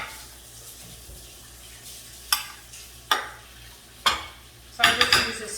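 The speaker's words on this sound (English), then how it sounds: "So I just use a spoon to kind of work it, just like that." A spoon working a coating over layers of phyllo dough for baklava, giving four scraping, sticky strokes spaced about a second apart, close and clear over a faint low hum.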